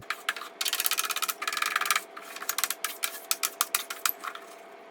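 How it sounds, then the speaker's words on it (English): A vegetable scraper rasps across oven door glass, lifting baked-on residue in quick, close scraping strokes: a dense run of rough strokes early on, then sparser, sharper scrapes with short gaps between them. "Next, I'll use this vegetable scraper to get off all the residue."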